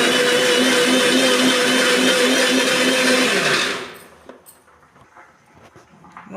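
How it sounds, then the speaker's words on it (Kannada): Mixer grinder blending pumpkin sambar paste with water, a loud steady motor whine held for nearly four seconds before cutting off into quiet clatter as the jar settles. "ಇವಾಗ ನೆಕ್ಸ್ಟ್ ಇನ್ನೊಮ್ಮೆ ಮಿಕ್ಸಿ ಹಾಕ್ತೀನಿ"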